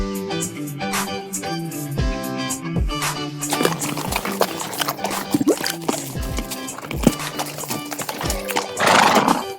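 Horses whinny repeatedly over a steady clip-clop of hooves, loud and close, set against a busy farm-animal background in a children's counting song.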